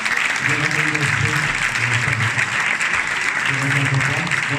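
An indoor audience at a company evening in Ploufagran claps steadily and continuously for the organisers, a dense and loud applause that holds for the whole few seconds with no speech over it.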